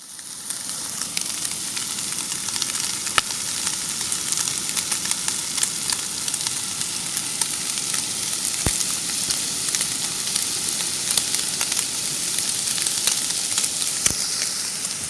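Tater tots toasting with cheese sizzle steadily on a hot surface, with a constant bright frying hiss, occasional sharp pops and crackles, close and even throughout, no talking.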